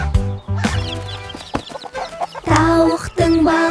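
Hen clucking sounds within a lively children's song about animals, short clucks set amid music and sung vocals.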